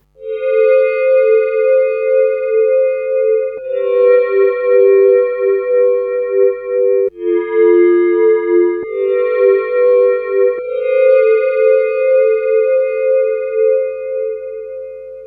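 Korg Volca FM glass-pad chords step through a sequenced pattern, sustained bright harmonic tones changing every few seconds, loud and alone.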